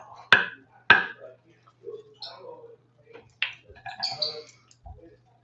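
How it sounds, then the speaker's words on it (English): A knife chopping butter into tiny pieces for an apple pie: two sharp, close cuts ring out near the start, followed by scattered lighter taps and small clicks. "Cut the butter into tiny little pieces."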